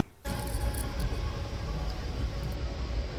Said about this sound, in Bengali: ট্রেন এখন পাঁশকুড়া জংশন ঢুকছে